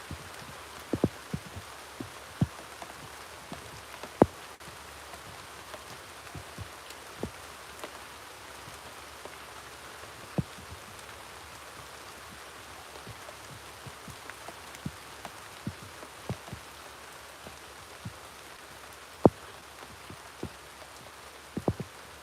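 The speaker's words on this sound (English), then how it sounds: "It's raining. And we're still working." Rain falls steadily on an outdoor work site, a soft constant hiss scattered with faint, irregular drips and taps close by, with no voices.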